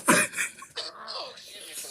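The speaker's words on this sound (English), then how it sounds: "Oh, excuse me for the cough." A single harsh cough bursts out close up, followed by a person talking.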